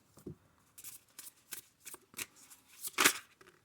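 Oracle cards from the Sacred Destiny Oracle deck being shuffled by hand, a run of quick papery riffles and slaps in irregular bursts, close and fairly quiet, with one louder snap near the end; no talking.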